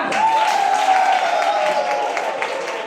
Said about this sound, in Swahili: Pigeni makofi moja.